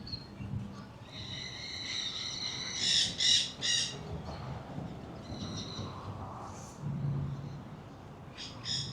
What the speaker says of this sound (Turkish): Bak o papağanlar burada da var, bak bizim bu parkın içinde var ya.